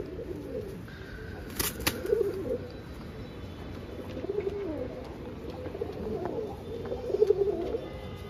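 Budapest high flyer pigeons coo repeatedly at close range in soft, throaty bursts over a low background, with a brief sharp flutter early on.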